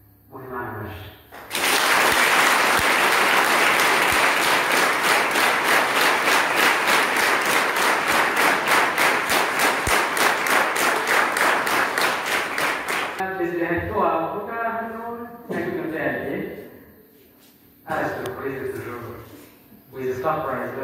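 A church congregation bursts into loud, sustained applause for about ten seconds, with dense rhythmic clapping that fades out as someone starts speaking in short phrases.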